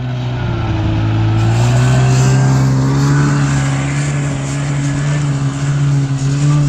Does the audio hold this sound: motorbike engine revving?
yes